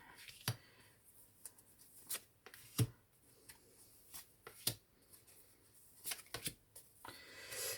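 Oracle cards being shuffled and laid out in a quiet room, with sparse crisp card slaps and flicks at irregular intervals, close and fairly faint.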